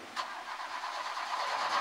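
A car engine running steadily at idle, a continuous mid-pitched hum with a brief bump near the start, heard alone at moderate loudness.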